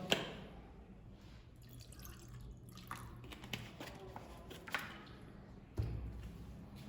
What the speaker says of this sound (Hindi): तो फिर से हम इसमें से निकाल करके बिस्लरी डालते हैं एक बार